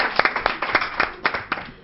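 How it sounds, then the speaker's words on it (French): A small studio audience on a Guadeloupe television pageant show claps for a Miss Top Model of the World winner, a sparse, uneven patter of individual claps that fades near the end. "On applaudit s'il vous plaît."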